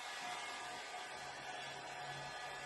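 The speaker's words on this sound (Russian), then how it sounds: "сначала с этого фена" A handheld hair dryer blows warm air onto a person's back. It makes a continuous, even rushing whoosh from start to finish, close by, with no talking.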